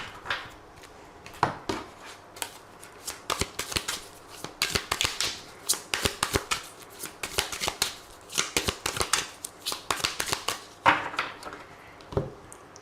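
Tarot cards being shuffled in a run of quick riffling, fluttering bursts and soft taps, fairly close and alone, with brief pauses between the handfuls.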